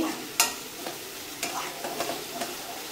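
Masala with garam masala sautés in a pan for mushroom pasta, a soft continuous sizzle broken by sharp spoon clinks and scrapes as it is stirred, close and quiet, with no voices.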